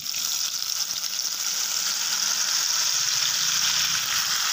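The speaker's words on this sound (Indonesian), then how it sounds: "Sekarang minyak gorengnya sudah panas, kita akan masukkan bumbu yang sudah kita haluskan tadi ya." Steady, bright sizzling of ground spice paste for sambal goreng frying in hot oil, a constant crackling hiss throughout with no speech.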